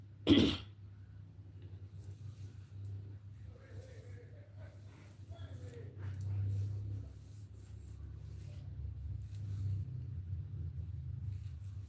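A single sharp cough at the start, then a steady low rumble of background noise for the rest of the clip.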